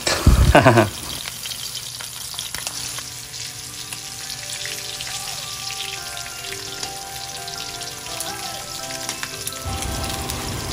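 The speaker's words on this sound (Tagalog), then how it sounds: "gagawin po natin yan ng crispy chicken feet" Chicken feet deep-fry in hot oil to turn crispy, a loud steady crackling sizzle that bursts sharply at the start and then settles into a dense, even hiss. No one speaks.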